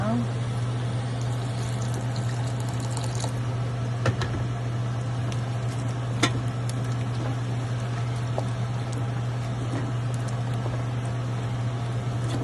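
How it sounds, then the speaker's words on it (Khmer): Water pours into a pot of banana dessert, making a steady, even rush that runs unbroken under a constant low hum, with occasional faint clicks. "ហើយក៏យើងចាក់ចេកចូល ក៏ចាំដាក់ក្រោយក៏បានហើយយើងចាក់ទឹកតិចមក"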